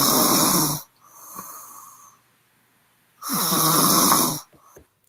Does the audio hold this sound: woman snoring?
yes